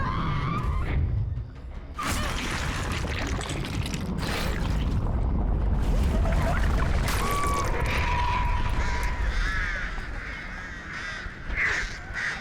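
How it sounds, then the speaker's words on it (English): In Dead by Daylight, loud crow caws ring out over a dense, bubbling, churning roar as a giant crow bursts from a survivor's stomach, with harsh bursts and a steady rumbling texture throughout. "the boiling effect you can hear as the giant crow starts to try and burst out of the survivor's stomach"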